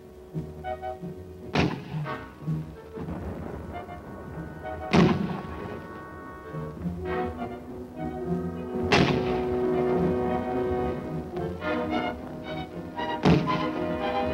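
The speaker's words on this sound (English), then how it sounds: "The sights are aligned, and the 60mm begins its explosive attack." A 60mm mortar firing in combat in Korea, with four sharp, heavy thumping reports spaced a few seconds apart, each ringing out briefly over a low, continuous rumble.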